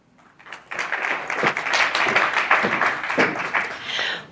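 An audience at a corporate directors' event in South Africa breaks into applause, a dense wash of many hands clapping that swells quickly and holds steady for several seconds.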